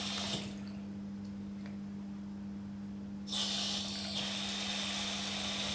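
Tap water runs steadily in a kitchen as an injured hand is washed, a constant close hiss that swells brighter and louder partway through, with no talking.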